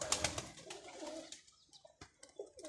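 Pigeons coo softly nearby, with low throaty calls among faint fluttering and scattered clicks.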